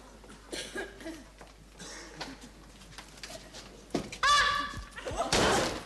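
A door thumps and slams in a 1970 British comedy scene, giving a couple of sharp knocks amid room sounds, with a cough and people's voices around them.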